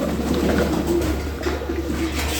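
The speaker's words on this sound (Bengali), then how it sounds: "এখন যাচ্ছি কবুতরকে পানি দিতে" Domestic pigeons at a farm coo in low, throaty bursts close by, the calls repeating over a constant background hum without any speech.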